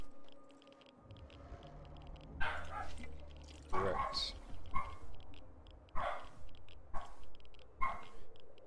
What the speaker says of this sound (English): One moment, my dogs are going crazy.